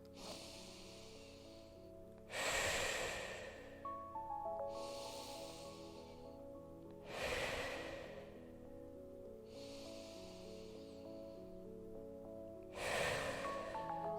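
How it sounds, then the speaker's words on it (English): Deep, audible breaths taken during a side-lying spinal mobility exercise with a small ball: three loud breaths spaced several seconds apart, each followed by a softer one, over steady background music. "Give me 3 big breaths."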